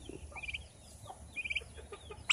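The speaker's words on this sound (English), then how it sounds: "Oh, those poor turkeys." Turkeys calling in a pen, with short warbling gobble-like bursts at moderate distance, repeated a few times over low background rumble.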